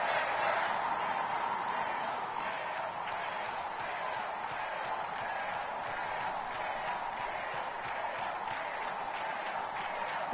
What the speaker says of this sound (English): the crowd is ready for action